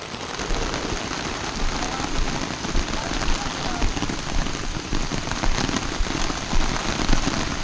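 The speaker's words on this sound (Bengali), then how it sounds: "এখন পর্যন্ত বৃষ্টি চলছে।" Heavy rain pouring steadily onto surfaces, a dense loud hiss of drops with scattered sharper patters, continuous throughout.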